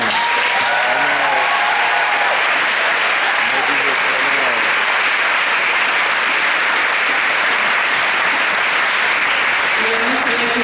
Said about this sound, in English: ask for a huge round of applause for these graduates